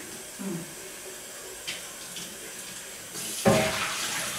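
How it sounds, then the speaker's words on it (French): A kitchen tap runs to rinse a one-litre jar, starting with a brief soft burst and then a steadier, louder flow near the end, close by, with faint clinks before it. "Alors, je vais juste rincer un tout petit peu."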